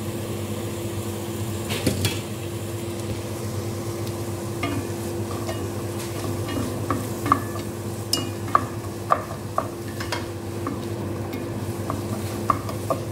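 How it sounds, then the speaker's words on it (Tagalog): Carrots are stirred in a frying pan with a soft steady sizzle, while a spatula scrapes and taps the pan in irregular clinks that grow more frequent toward the end, with no talking. "Ilagay na po natin yung carrots."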